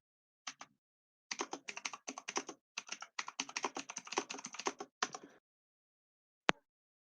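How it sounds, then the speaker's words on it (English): Computer keyboard typing in bursts of rapid clicks with short pauses, fairly close and clear, ending in one sharp isolated tap after a gap. "I can hear you typing on your keyboard."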